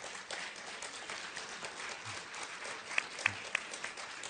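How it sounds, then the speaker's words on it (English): Applause from an audience at a Parkinson's Foundation caregiver event, steady and fairly faint throughout, with a few sharper individual claps standing out near the end. "Well-deserved applause."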